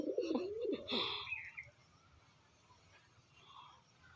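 Pet pigeons coo at home, a close, throaty warbling burst in the first second and a half, then a quieter background of soft coos and faint chirps as the sound thins out.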